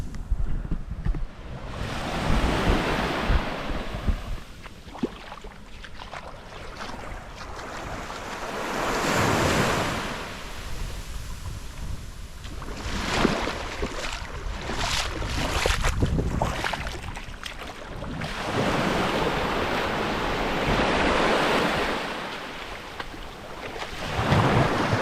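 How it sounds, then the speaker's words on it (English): Strong ocean waves breaking on a Caribbean beach on Bequia, loud surging crashes rolling in every few seconds, mixed with gusty wind buffeting the microphone. "The waves are pretty strong today"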